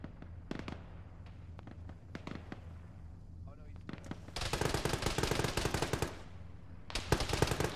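Gunfire in the Arma military simulation game, scattered single shots at first, then a dense sustained volley of rapid automatic fire, loud and close, with radio talk over it.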